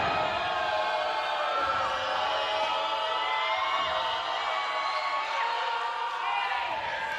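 Crowd cheering and shouting throughout a wrestling show as a wrestler plays to the audience, a steady dense roar with whoops rising over it and commentators talking on top.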